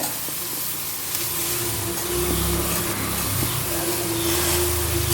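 Mustard seeds and two dried chillies sizzle steadily in hot coconut oil, a close, continuous hiss with faint crackles while being stirred for a pumpkin-leaf thoran.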